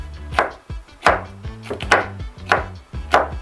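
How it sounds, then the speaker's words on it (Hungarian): A knife chops bell peppers and tomatoes on a cutting board in a home kitchen, five or six crisp, close, evenly spaced knocks sounding alone. "Amíg a gomba sül, addig feldaraboljuk a paprikát és a paradicsomokat is."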